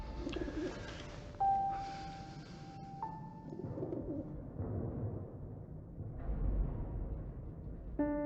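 Soft cooing from an injured bird, likely a pigeon or dove, in the game 11-11 Memories Retold, repeating low calls over steady ambient background with some faint tonal game sounds.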